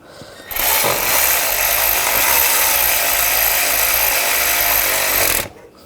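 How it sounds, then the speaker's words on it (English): Steady, loud power-tool whir, likely a socket wrench tightening a pipe bolt with a T30 socket during knock sensor work on a 2009-2017 Volkswagen Tiguan engine; it runs continuously for about five seconds, then stops abruptly. "use the T30 socket, tighten this pipe down"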